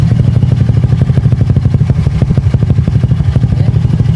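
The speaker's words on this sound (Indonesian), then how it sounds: "Jadi si motor ini hidup" Close, loud motorcycle engine idling steadily after a remote start, with an even, rapid chugging beat and a clattery mechanical edge throughout.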